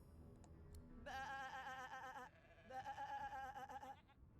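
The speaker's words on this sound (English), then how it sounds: "That's defo not a human making sheep sounds." A sheep bleats twice in a video game, two drawn-out wavering cries separated by a short pause, loud and near over a faint background rumble.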